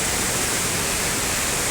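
Icy snowmelt water in a mountain stream near Mussoorie rushes in a dense, steady roar close by, continuous and loud with no pauses or voices.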